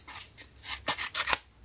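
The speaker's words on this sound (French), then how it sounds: "On va couper en biais." Scissors cut scrapbook album paper diagonally in a few quick, close snips and rasps, each short and crisp, heard alone without talk.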